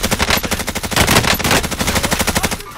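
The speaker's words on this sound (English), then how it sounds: "Getting a lot of fire from down there, lads." Enemy fire in Warzone, a loud, sustained burst of rapid automatic gunshots rattling steadily with no pause and no talk.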